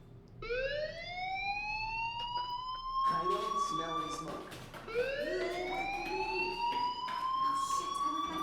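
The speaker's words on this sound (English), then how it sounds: "do you hear that fire alarm? That means you should be outside." A school fire alarm in the video game Life is Strange sounds as a loud rising siren wail that sweeps upward, stops, then starts climbing again, with clattering game noise and movement sounds underneath.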